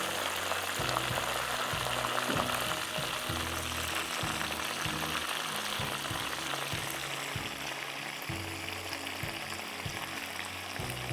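Butterfly prawns frying in hot oil, a steady close crackling sizzle with low bubbling pulses throughout, no talk.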